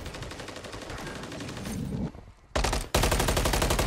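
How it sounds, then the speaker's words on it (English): Gunfire in a video game match, rapid rattling bursts of automatic fire, loud and close, with a short lull before sharper, denser volleys resume toward the end. "Unfortunately for you, you do have to shoot your gun eventually."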